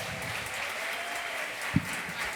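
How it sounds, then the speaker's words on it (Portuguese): Brief, muffled clapping from a small group in a podcast studio as a guest arrives for a Christmas special episode, faint and steady with one sharper knock. "Uma salva de palmas!"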